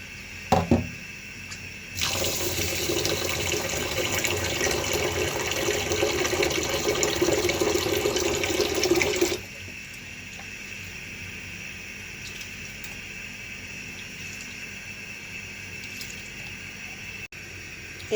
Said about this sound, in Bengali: চালটা নিয়ে নিব, লাল চাল, আমন ধানের লাল চাল ধুয়ে নিব।